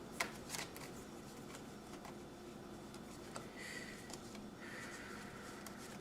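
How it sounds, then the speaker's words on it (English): Tarot cards being shuffled and handled, giving a steady soft papery rustle with a few sharper flicks and slaps as cards drop, close up and quiet, with no talking. "Sorry about that. I'm dropping cards."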